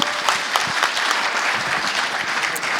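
A crowd applauds at a Rotary leadership membership workshop with dense, lively clapping, full and continuous, with a few louder individual claps standing out near the start.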